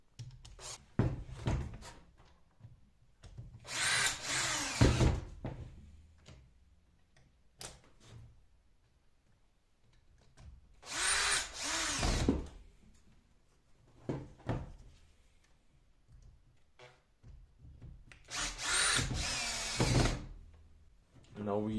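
Power drill driving four screws back into the housing of a Bosch GWS 850C angle grinder during repair, heard as three loud whirring bursts separated by quieter handling clicks and knocks.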